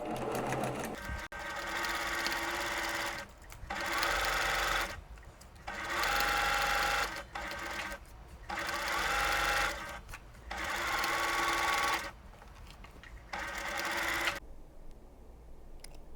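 A sewing machine stitches pinned quilt pieces for a Christmas tree block together, running in several steady bursts of a few seconds each, separated by short pauses, then stops.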